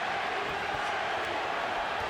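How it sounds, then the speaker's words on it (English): A distant crowd roars and chants in a steady wash of noise, loud but blurred, with no clear individual voices. "Pacquiao crowd chanting, Manny, Manny, Manny."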